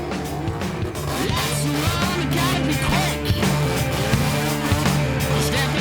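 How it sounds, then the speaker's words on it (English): A Mazda 808 with a 13B peripheral port rotary engine drives hard with a continuous loud raspy engine note, tires squealing and skidding throughout. "Oh, super clean car. Mazda 808, 13B peripheral port."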